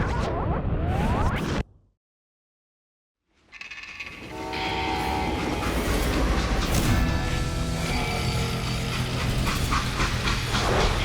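A freight train in the Western video game Call of Juarez Gunslinger: a loud rumbling rush cuts out into brief silence, then returns with rattling wagons, a sustained horn or whistle tone and a steady mechanical roar.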